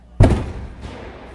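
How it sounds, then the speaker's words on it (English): A firework at a baseball game between the Mohawk Valley Diamond Dawgs and the Boonville Lumberjacks goes off as a single loud boom, followed by a rumbling, echoing tail and a fainter second pop. "Still, the fireworks are going off here"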